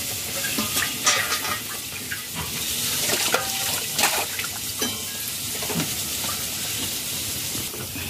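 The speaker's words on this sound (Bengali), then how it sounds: "সেই কলসিটাকে আজকে ধুচ্ছে" A clay water pitcher (matir kolshi) is washed, giving close splashing and trickling water with scrubbing and rubbing noises that come and go in irregular bursts, with no talking.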